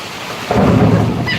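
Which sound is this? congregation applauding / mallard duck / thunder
thunder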